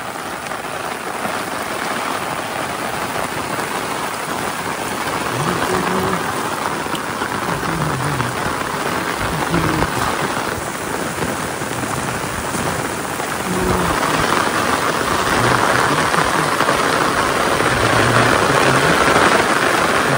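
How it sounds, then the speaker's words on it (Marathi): Heavy rain pours steadily on a farm by rice fields, a dense loud roar of drops drumming on surfaces throughout, with a low rumble swelling underneath. "खूप पाऊस पडतोय हा."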